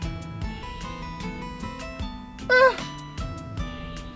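A short cat meow rises over soft background music in a visual novel video game, a single brief call standing out near the middle.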